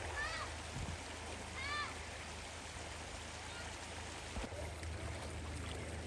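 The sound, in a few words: small creek flowing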